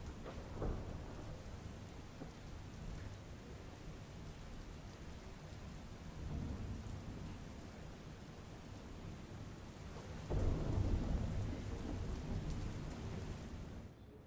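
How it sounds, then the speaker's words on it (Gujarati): Heavy rain in Mandvi, Kutch, pouring steadily onto surfaces with distant rumbling thunder, and a heavier burst of rain swelling near the end. "માંડવી તેમજ તાલુકાના ગ્રામ્ય વિસ્તારોની અંદર વરસાદ વરસ્યો છે."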